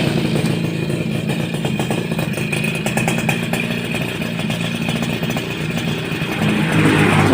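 A Suzuki RC100 motorcycle engine runs steadily close by, a loud, even two-stroke chatter that swells slightly near the end, with no voices over it.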